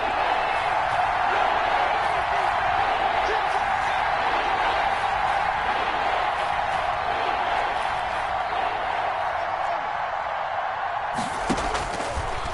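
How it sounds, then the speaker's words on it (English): A broad stadium crowd roars steadily in an American football video game as play builds toward a big third down, a dense sustained wash of cheering that holds level throughout, ending with a brief sharper burst near the close. "the crowd getting into it as we come up on a big third down"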